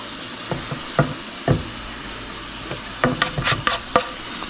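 Chicken rice soup ingredients stirred in a cooking pot, with scattered spoon knocks and clinks over a constant bubbling sizzle, busier clatter near the end.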